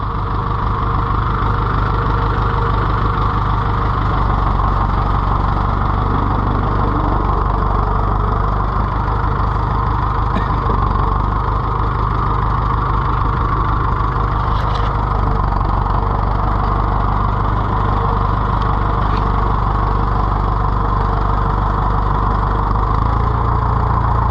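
Warm-started David Brown tractor engine idling steadily, a loud, close, continuous low rumble with an even mechanical throb that holds unchanged throughout.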